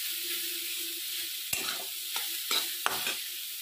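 Cauliflower fries lightly in a pan over low gas, a steady close sizzle broken by several sharp scrapes and knocks as it is stirred.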